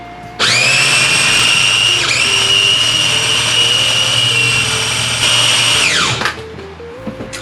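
A kitchen blender mixing a coconut mixture for a vegan coconut wrap runs loud and close for about six seconds with a high steady whine, then spins down and stops.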